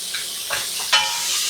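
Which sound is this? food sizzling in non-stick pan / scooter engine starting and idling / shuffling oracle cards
food sizzling in non-stick pan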